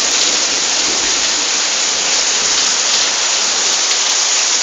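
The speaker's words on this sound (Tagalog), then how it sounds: "humihina na yung ulan" Steady, heavy rain pours down, a dense hiss of drops with no voices, constant and close throughout.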